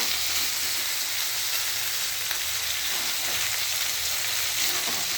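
Small fish chorchori with tomato and onion cooking in a pan, a loud, dense, unbroken sizzle and bubbling hiss held for the whole stretch, with no voices.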